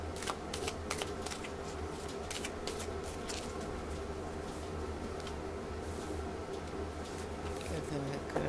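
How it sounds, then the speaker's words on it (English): Riffle shuffling of a deck of fairly stiff, slightly flimsy playing cards, a dense continuous rapid fluttering of cards close by, steady and loud throughout with a low background hum. "Give them a good ruffle shuffle."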